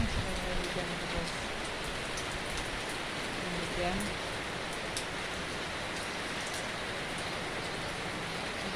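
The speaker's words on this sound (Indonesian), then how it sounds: "Mudahan semoga hujan terus." Steady rain falls in September, a soft continuous patter on surfaces with a few louder drips, faint and even throughout, with a voice speaking briefly near the start.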